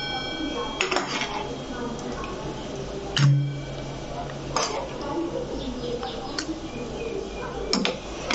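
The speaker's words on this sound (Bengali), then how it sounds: "তো বন্ধুরা দেখো এবারে আমি পাত্রে একটা ঢেলে নিচ্ছি।" Brinjal potato curry is poured and scraped from a pan into another vessel for a South Indian dish, with soft squelches, spoon clinks and metallic taps against the pot, close by.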